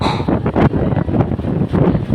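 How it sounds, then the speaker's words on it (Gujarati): Strong storm wind gusting over a village during a thunderstorm, a continuous loud roaring buffet with sharp bursts, close against the microphone and with no one talking. "છે ને, જોરદાર પવન."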